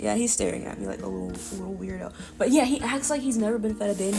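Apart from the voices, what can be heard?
No everyday noises stand out.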